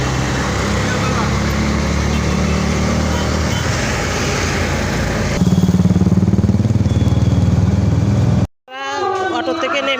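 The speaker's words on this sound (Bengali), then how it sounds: "এখন আমরা গাড়িতে বসে গেছি" An auto-rickshaw rumbles along a road toward Panihati, a loud continuous engine drone with traffic noise and wind, while people talk over it before the sound cuts off near the end.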